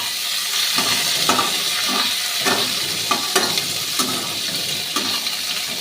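A utensil used for grinding poppy seeds is washed and scrubbed under running water, giving a steady loud wash of water with repeated rhythmic scrubbing strokes throughout.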